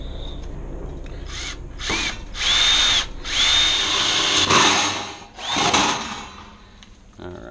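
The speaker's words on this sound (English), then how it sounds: "now to misuse this drill bit, but only temporarily." A power drill runs in several loud bursts, spinning up and biting while boring a hole for a portable generator's mechanical interlock at a house, with short pauses between bursts and no talking.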